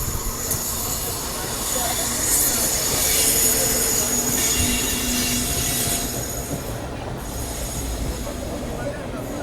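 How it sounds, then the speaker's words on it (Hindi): A train departs Secunderabad railway station, its wheels squealing in a loud, high-pitched metallic screech over a steady rumbling roll that eases slightly toward the end. "फ़िलहाल सामने कोई तो ट्रेन सिकंदराबाद से डिपार्चर हो रही है।"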